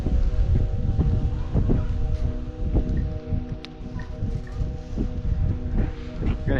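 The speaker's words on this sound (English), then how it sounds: "As you can hear as well, it's getting pretty windy." Steady gusting wind in a Himalayan village rushes and buffets the microphone throughout, loud and close, with rustling underneath.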